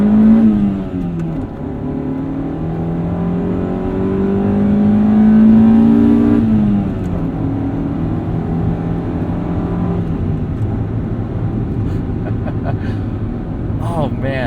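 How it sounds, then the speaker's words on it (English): A 1995 Honda Civic Si with a 126-horsepower engine revs hard while driving, its tone climbing and falling through the gears in loud, close sustained pulls, with a brief surge midway. "I just want to keep revving it out."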